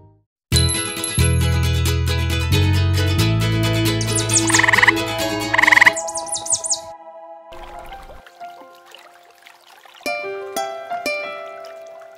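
Cartoon-style frog croaks for a children's story about two brother frogs in a marsh, loud and near, mixed with bright tinkling musical chimes and dripping effects that fade toward the end.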